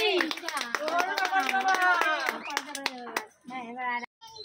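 A few people clap their hands in a quick, close burst during a family guessing game at home, mixed with lively overlapping voices and laughter.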